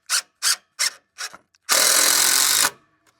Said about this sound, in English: We're just pre-drilling it so that we don't split the end of the stringer.